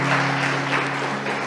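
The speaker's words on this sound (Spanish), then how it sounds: "Dale un fuerte aplauso a Jesús en esta noche." A church congregation applauds during an evening service, a short burst of close, dense clapping with a steady low hum underneath.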